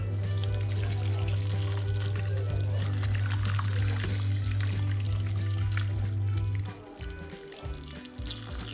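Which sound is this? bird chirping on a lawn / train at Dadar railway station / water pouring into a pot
water pouring into a pot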